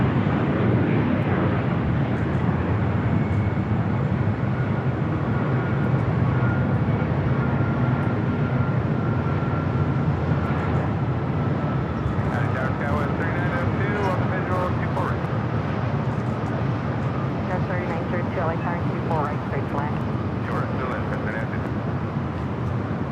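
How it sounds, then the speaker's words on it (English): A United Boeing 757-300 airliner arrives at LAX from Honolulu, its jet noise a steady, broad roar that holds throughout, with a voice talking over it. "This flight coming in from Honolulu, a United 757-300"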